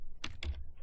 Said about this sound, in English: I'm just going to type in the server name